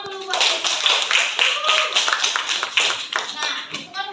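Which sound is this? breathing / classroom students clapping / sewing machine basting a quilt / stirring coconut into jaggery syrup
classroom students clapping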